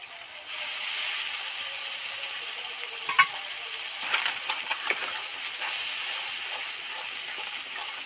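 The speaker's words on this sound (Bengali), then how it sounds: "একটু ধরে ধরে এটা কষতে লাগবে তবেই টেস্টফুল হবে" Duck egg curry gravy sautés in a pan with a steady soft sizzle and hiss, broken by a few clinks and scrapes from stirring.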